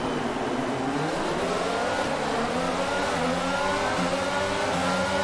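Formula 1 race cars in the F1 22 video game roar off the start line together in a sprint race, a dense pack of high-pitched engines climbing steadily in pitch as they accelerate, loud and continuous throughout.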